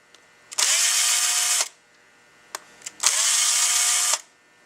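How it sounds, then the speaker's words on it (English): Power drill backing screws out of a Cadillac part, two whirring bursts of about a second each, separated by brief clicks and handling, close up. "Remove these 3 screws."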